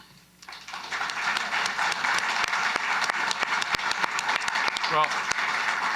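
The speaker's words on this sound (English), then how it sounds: "I was clapping for the Premier there" Applause for the Premier at a pipeline and carbon-pricing agreement announcement, starting after a brief quiet moment and continuing as a steady crowd of clapping to the end.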